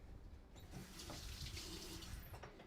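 Cold water runs from a kitchen tap in a steady, faint splashing stream, continuous throughout the short clip with no talking.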